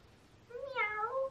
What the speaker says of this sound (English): Kind of an annoying cat.